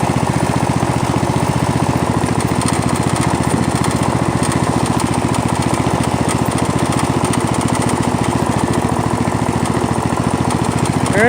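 A Poulan lawn tractor engine runs on its first start of 2018, a loud, close, steady mechanical chugging with rapid regular firing pulses throughout, no talking.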